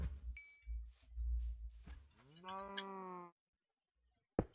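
A Minecraft cow lets out a single drawn-out moo, preceded by soft blocky thuds and followed by quiet and a sharp click.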